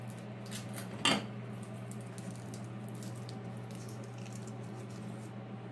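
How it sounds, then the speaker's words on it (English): Half a garlic clove gets smashed to crack open its skin, giving one sharp, close thud about a second in, over a steady low kitchen hum. Nobody speaks. "I'm gonna take this, smash it a little bit so the skin will open up"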